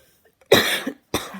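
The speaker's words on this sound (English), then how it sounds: "I always get coughing fits when I first wake up" Two harsh coughs close by, the first longer and raspier, the second a short follow-up after a brief pause.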